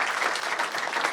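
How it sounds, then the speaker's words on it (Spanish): A church congregation claps for a young man finishing his first course. The applause is steady and dense, a continuous patter of many hands with no talking over it. "Un aplauso, por favor."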